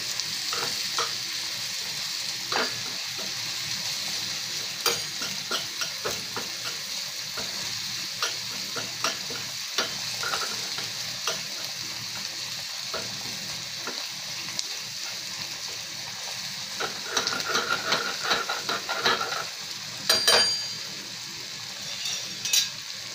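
Coarsely ground masala paste with curry leaves cooking in hot oil for katachi amti, with a continuous close sizzle and repeated spoon scrapes against the pan throughout, no speech.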